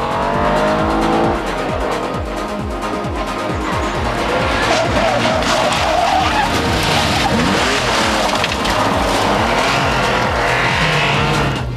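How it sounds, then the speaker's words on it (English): Porsche 911 historic rally car racing on the 1996 Circuit of Ireland Rally, its engine loud and close, revving hard with rapid gear changes and tyre scrabble throughout, no talk over it. "The Porsche 911 has dominated historic rallying in recent years, and Jeff Crabtree, the early leader"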